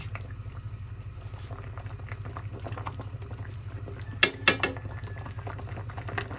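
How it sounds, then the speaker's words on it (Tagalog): Noodles for carbonara boil in a pot with a low, steady bubbling rumble, interrupted late by a few sharp clinks of metal against the pot. "Pinatuloan ko na yung noodles"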